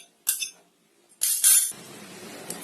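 A spoon clinks against a glass while sabja seeds are added for milk sherbet: two bright, close metallic taps separated by a pause, followed by a soft hiss and rustle.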